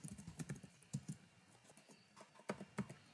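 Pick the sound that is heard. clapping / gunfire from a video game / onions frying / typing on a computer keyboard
typing on a computer keyboard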